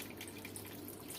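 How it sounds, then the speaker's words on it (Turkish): Plain water poured into a pot of stuffed peppers filled with minced meat, a faint continuous trickling splash with no other sounds. "Su döküyoruz. Sadece su, başka hiçbir şey yok."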